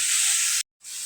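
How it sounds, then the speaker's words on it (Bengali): Spinach shak frying in a pan gives a loud, steady sizzle, broken by a sudden short silence before the hissing resumes slightly softer. "ভালো মতো এখন ভাজে নেব।"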